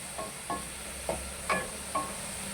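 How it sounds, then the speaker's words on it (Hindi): Eggplant fries in a pan with a faint, steady sizzle, broken by five soft stirring scrapes at roughly even intervals. "तो बैंगन हमारे फ्राई है, इसको सिर्फ 4-5 मिनट के लिए हमने ऐसे ही पकाना हुआ।"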